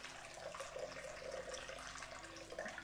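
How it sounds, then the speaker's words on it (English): Running water rinses hair product away at a salon sink, a soft continuous splashing and trickling that stays faint and steady throughout. "Just watch all that product rinse away."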